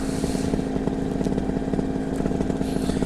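A paramotor's small two-stroke engine runs steadily at high RPM, a loud, continuous buzzing drone with a constant pitch and no talk over it.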